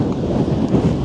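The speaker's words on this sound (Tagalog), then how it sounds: "Lakas ng hangin." Strong wind buffeting a microphone outdoors on a rainy day, a loud continuous low rumble with no break.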